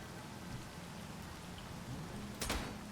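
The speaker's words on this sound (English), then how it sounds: "Doesn't help that it's raining and making the misty conditions." Rain falls in the space-survival game Space Engineers as a quiet, even hiss of droplets that continues throughout, broken near the end by one brief, sharp crack.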